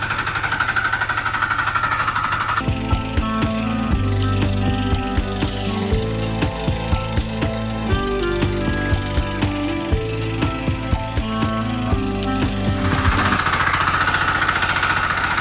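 A DTZ 560 DN walk-behind tractor engine runs steadily in second gear during its break-in, outdoors in the evening. It gives a continuous, close mechanical drone with a rhythmic knocking clatter, and no one speaks.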